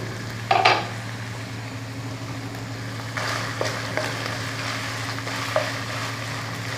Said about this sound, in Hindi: इसको थोड़ी देर तेल में फ्राई करते हैं।